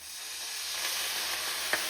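Water poured onto a cast iron lid over a frying egg hisses and sizzles steadily, a broad close steam hiss that swells slightly, with a brief clink near the end.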